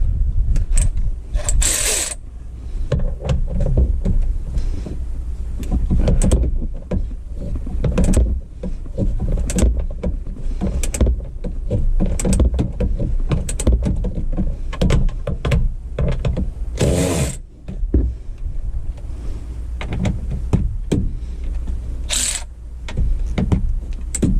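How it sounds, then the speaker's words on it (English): Bolts being removed from a 2015 Nissan Rogue cloth seat, steady close mechanical ratcheting and clicking with metallic clinks throughout, a few sharper clanks standing out. "So we gotta take these 2 bolts out."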